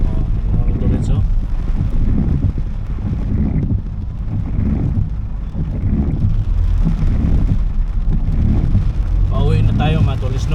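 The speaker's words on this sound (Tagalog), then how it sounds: "Oh, tingnan nyo mga tolits, lakas ng ulan." Heavy rain drums steadily on a car travelling along Sumulong Highway in Baras, Rizal, a dense broadband roar with low road rumble that never lets up, and a voice talks briefly near the end.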